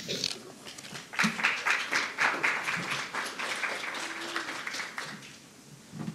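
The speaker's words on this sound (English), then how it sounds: "Those applause were a little spotty." Scattered, thin applause from a modest audience at a media diversity panel event, moderately faint, swelling briefly then tapering into sparse claps with low murmuring.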